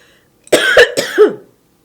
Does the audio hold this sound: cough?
yes